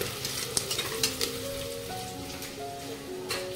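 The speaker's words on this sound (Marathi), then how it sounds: "कांदा व्यवस्थित परतला" Chopped onion sizzling in a hot pan while cooking sode bhat, a steady close crackle with a few sharp pops and stirring scrapes, and faint background tones under it.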